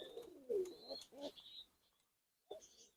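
Soft, low pigeon coos close by, several throaty burbling calls in a row, then a short silence and one more coo.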